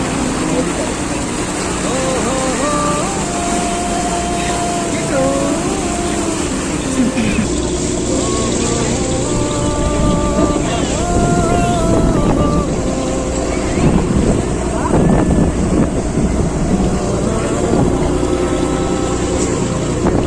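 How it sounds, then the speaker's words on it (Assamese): A ship speeds across the open sea, its engine drone, rushing water and wind noise running steadily throughout, with people talking over it. "আমাৰ জাহাজখন বহুত স্পীডত গৈ অৱশেষত সাগৰৰ মাজভাগ পালে"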